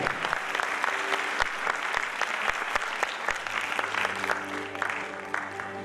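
An audience claps for director Dhirendra Sethia at a Matunga event, a sustained even wash of many hands at moderate level with a few sharper claps standing out and a low hum underneath.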